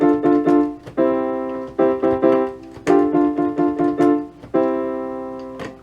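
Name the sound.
virtual piano played from M-Audio Oxygen8 MIDI keyboard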